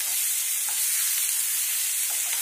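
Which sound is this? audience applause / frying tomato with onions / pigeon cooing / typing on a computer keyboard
frying tomato with onions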